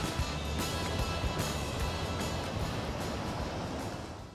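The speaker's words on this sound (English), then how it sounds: "so water's flowing over the top of it." Creek water flows over the top of a low water bridge as a soft, steady rushing wash heard at a moderate distance, continuous throughout.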